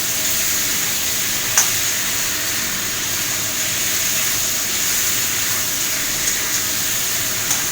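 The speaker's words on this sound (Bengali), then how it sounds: "তো কথা বলতে বলতে এটা আমার কষানো হচ্ছে।" Cauliflower and potato curry sautés in a pan with a steady, even hiss and sizzle, close and constant, with one faint click of a utensil.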